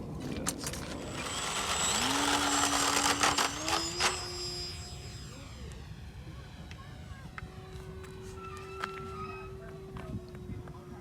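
A 3D printed Eclipson Model R RC airplane on a 3-cell battery makes a fast pass, its electric motor whine rising and shifting in pitch as it flies by at moderate distance, with a voice speaking over it.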